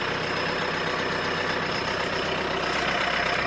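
A 2022 Polaris Ranger UTV engine running steadily up close, a continuous rough mechanical hum with no breaks and no talking.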